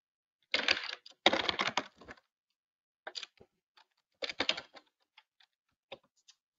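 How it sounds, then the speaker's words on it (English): Typing on a computer keyboard, bursts of close key clicks in short irregular runs separated by pauses, quiet and alone. "So I'm gonna go ahead and type that in."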